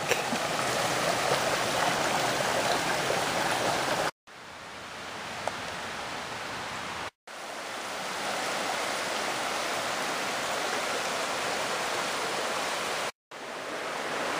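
Panther Creek in Georgia rushes steadily along a forest hiking trail, a dense, continuous wash of flowing water with no voices, broken only by a few brief silent gaps.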